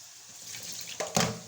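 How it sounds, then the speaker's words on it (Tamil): Water is poured off chopped dry fish, a brief close splash and trickle of draining liquid lasting about a second, without talk. "இந்த அப்படியே தண்ணியை வடிச்சிட்டு"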